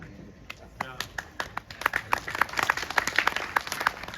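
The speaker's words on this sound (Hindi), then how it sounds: "जोरदार ताली बजाइए।" An audience at a Hindi poetry gathering at the Red Fort claps, starting as scattered claps and building into brisk, fairly close applause. A voice can be heard under the clapping.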